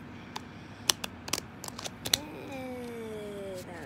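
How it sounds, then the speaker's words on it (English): Uno cards being shuffled by hand: a run of sharp, uneven clicks and slaps in the first two seconds, then a softer riffling rustle, close and fairly quiet. "just shuffle to the best of your ability"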